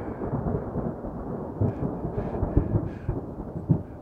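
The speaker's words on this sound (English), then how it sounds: "there's going to be another thunderstorm on us here, and it's going to wet the place down" Thunder from an approaching storm over an Arizona forest rolls in low, uneven rumbles, with several heavier swells and cracks building through the middle and end, with no voices heard.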